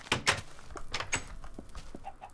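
Several brief clucks from chickens in the Minecraft mod TerraFirmaCraft, spaced irregularly among soft thuds and game ambience, fairly close and moderately loud.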